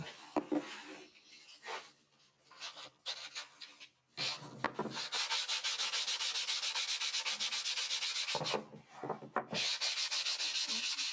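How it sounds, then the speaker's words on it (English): Wood from a cigar box being engraved is sanded by hand with sandpaper, close and fairly quiet: first short irregular scrubbing strokes, then a long run of steady rapid back-and-forth rubbing, no talk. "get our handy dandy sandpaper"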